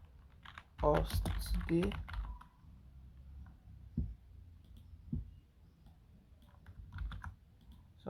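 Computer keyboard typing of new text while designing a social media flier: bursts of quick key clicks at the start, then sparser taps, with a voice speaking briefly under them.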